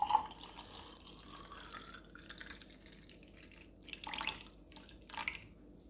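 A ginger, berry, pineapple and lime drink is poured over ice into a glass, a faint close trickle and drip with a couple of brief louder splashes near the end.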